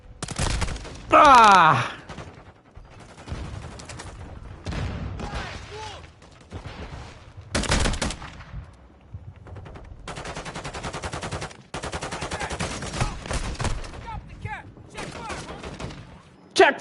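Modern Warfare 3 firefight with repeated bursts of automatic gunfire, some sharp and close, others more distant, broken by pauses, while players shout and a pained yell rings out.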